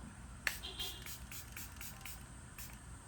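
A pump spray bottle mists setting spray onto a face during a makeup wear test, with one sharp hiss followed by several softer, evenly spaced bursts.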